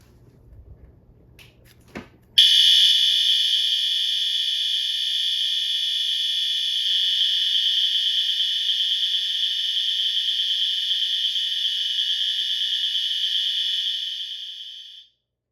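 After a few faint clicks, a loud, harsh electronic fire alarm horn, a System Sensor Spectral Advance, blares continuously for about twelve seconds, then cuts off abruptly.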